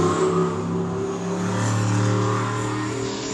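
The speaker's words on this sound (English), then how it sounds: "And his BMW E92." A BMW E92 drift car's engine revs at a drifting event, a loud, sustained mechanical drone that holds a steady pitch and swells slightly, heard up close with no talking.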